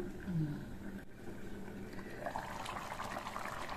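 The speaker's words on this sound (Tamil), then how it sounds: "குழம்பு 4-5 நிமிஷத்துக்கு நல்லா கொதிச்சு நம்ம சேர்த்த புளிக்கரைசலோட பச்சை வாசனை எல்லாம் போகட்டும்" Eggplant kara kuzhambu, a tamarind curry, simmers in a covered pot with a soft, steady bubbling that stays faint and continuous throughout.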